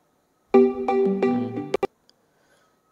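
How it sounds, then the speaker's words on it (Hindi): A phone ringtone sounds as an incoming call arrives, a loud melodic tone pattern of several repeating notes for just over a second, ending with two short clicks, then silence. "यहाँ पे देख सकते हैं कॉल आ चुका है हमारा"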